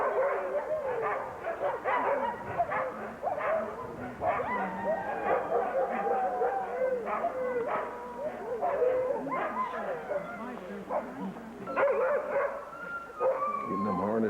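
A team of sled dogs at an Alaskan demo being harnessed, barking, yipping and whining excitedly in an overlapping chorus that runs throughout, close and continuous with restless, eager cries.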